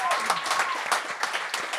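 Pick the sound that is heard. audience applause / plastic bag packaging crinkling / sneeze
audience applause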